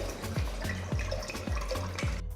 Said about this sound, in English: So to the pot, take enough water for boiling.